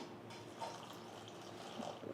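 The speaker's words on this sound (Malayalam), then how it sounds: "പൊടിച്ച ശർക്കര ഇത് ഇതിലോട്ട് കാൽ കപ്പ് വെള്ളം കൂടി ഒഴിച്ചു കൊടുക്കാം" Quarter cup of water poured onto powdered jaggery in a pan while making Kerala sukhiyan, a soft steady trickle and splash close by, faint and continuous with no talking.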